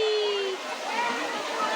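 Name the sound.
Muktai waterfall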